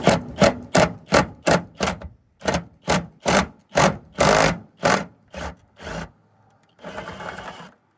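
Impact wrench with an 11 mm socket working on a 2002 Ford F-350, firing in a rapid series of short, loud hammering bursts, about a dozen in quick rhythm, then pausing before a final longer buzzing run, with no talk.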